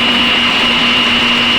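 A mixer grinder whirs at full speed, grinding roasted onion, tomato, green chillies, carrot, curry leaves and coriander in a steady, loud, high-pitched drone that runs unbroken throughout.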